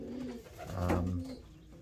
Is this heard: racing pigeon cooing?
yes